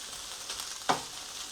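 Liver and onions frying over very low heat, a soft continuous sizzle with one brief louder crackle partway through, heard close and without talk.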